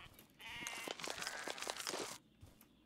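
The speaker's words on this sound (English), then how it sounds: "We got lots of sheep." Sheep bleat in the horror video game Siren Head: The Arrival, with a loud, wavering chorus of overlapping calls lasting about two seconds, then a quieter stretch.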